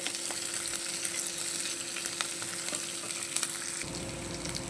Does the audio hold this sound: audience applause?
no